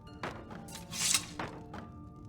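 In Skyrim, an urn is smashed with a few dull thuds followed by a bright, brief shattering crash, then another softer knock, all fairly quiet and close.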